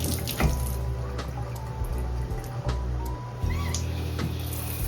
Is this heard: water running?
yes